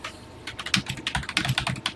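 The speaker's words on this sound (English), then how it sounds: "Pressing the key to begin, press 1 for TI Basic, and let's get typing." Rapid, irregular keystrokes on a Texas Instruments TI-99/4A home computer keyboard, each press a crisp, close clack in an uneven typing rhythm with no voices.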